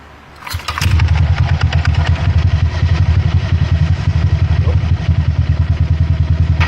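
A motorcycle engine with no airbox fitted starts up and settles into a loud, steady, rapid chugging idle close to the microphone, with no one speaking.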